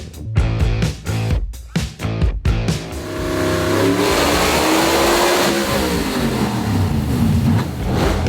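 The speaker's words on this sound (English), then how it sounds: "The engine is a Maserati engine." A Maserati-engined SuperLite SL-C race car on a hub dyno gives several loud, sharp revs with abrupt cutoffs. It then settles into a sustained high, rising and falling engine roar close by.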